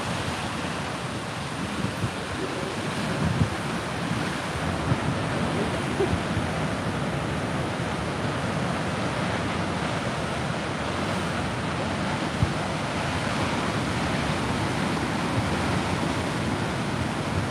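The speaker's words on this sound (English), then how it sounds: "Look at those waves though, man." Continuous roar of surf breaking along the Northern California coast, broad and steady with wind-like hiss, no voices.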